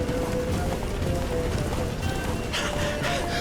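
A horse gallops in the video game The Witcher 3, with rapid rhythmic hoofbeats under a constant background wash, fairly faint and steady.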